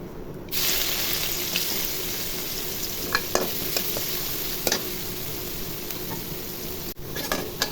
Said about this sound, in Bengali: এখন পেঁয়াজ কুচিগুলো দিয়ে দিব।